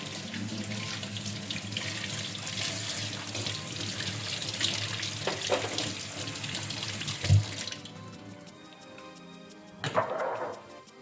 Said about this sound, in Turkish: Tohumlarını çıkarttım ve yıkıyorum.